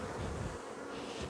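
Honey bees swarm around an open hive, making a dense, steady buzz that fills the air. The drone sounds close and continuous, with a faint rush of wind and no clear voices.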